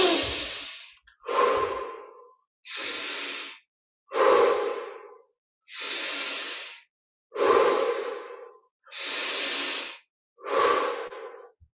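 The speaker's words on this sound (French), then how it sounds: "20 respirations profondes. Inspire par le nez, expire par la bouche." Eight deep breaths come one after another at an even pace, each a long breathy rush in through the nose and out through the mouth, close and loud, with silent gaps between them.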